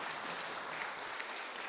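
A brief burst of steady, hissing applause from an audience at a talk, many hands clapping at once with no pauses.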